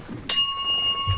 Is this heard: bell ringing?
yes